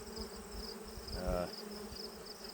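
Honey bees at an open air hive, late in the season, hum in a steady, fairly close drone with a slightly louder swell near the middle and faint speech in the background.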